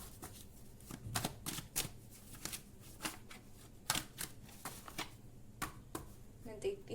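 A tarot card deck being shuffled in soft, repeated riffles and slaps of cards, close and fairly quiet, with someone speaking over parts of it.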